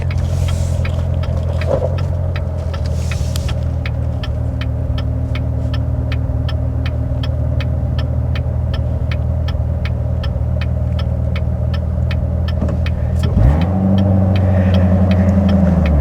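Chevrolet Corvette C7 Z06 with a manual gearbox driving at night, its engine a steady low throbbing rumble heard from inside, with a brief rise and shift in pitch near the end.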